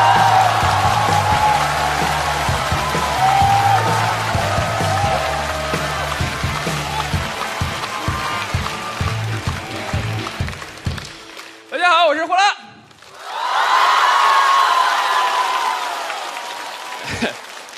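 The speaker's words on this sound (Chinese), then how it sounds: "掌声欢迎不敢" A talk show audience breaks into loud applause after a host talks for several seconds. The applause starts with a short burst, dips briefly, then swells into a full, sustained clapping crowd.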